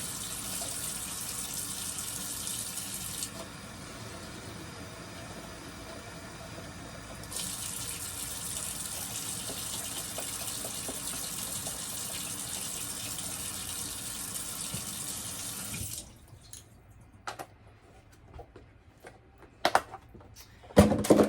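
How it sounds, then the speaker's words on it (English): Tap water gushes steadily into a pot of split pea soup in a home kitchen, a close, continuous rushing fill. Near the end the flow stops, leaving a few light clatters. "I'm going to go ahead and add some more water."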